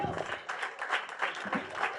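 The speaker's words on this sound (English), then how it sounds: "Let's give Dick a very warm round of applause." An audience gives a warm round of applause, dense clapping rising and falling in waves close by, with voices mixed in.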